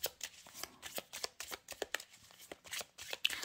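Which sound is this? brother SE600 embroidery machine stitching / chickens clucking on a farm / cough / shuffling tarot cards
shuffling tarot cards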